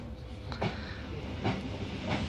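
Regionova passenger train arriving, with a steady low rumble of rolling wheels and periodic hissing bursts of air recurring roughly every second, heard close and alone without talk.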